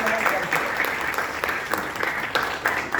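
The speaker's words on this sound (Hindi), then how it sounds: "आप लोग के लिए जोरदार ताली बजनी चाहिए" An audience applauds at a Constitution Day deliberation session, dense, steady clapping from many hands filling the room with a continuous patter.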